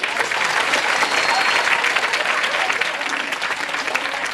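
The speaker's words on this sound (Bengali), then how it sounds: "ওনাদের জোরে করতালি দেয়।" Loud, sustained applause from a large congregation at a Christian church gathering, with many hands clapping at once in a thick, even roar and faint voices mixed in.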